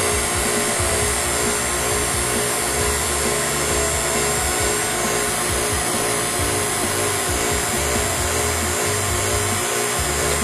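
A TruTech Tools Rapid Evac vacuum pump runs continuously during HVAC system evacuation, a loud steady motor drone with a constant hum and no pauses.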